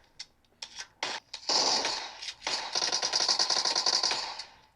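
Rapid gunfire and shotgun blasts in a mobile shooter game, a few sharp separate shots followed by fast, dense bursts of rattling fire, close and loud with no talk.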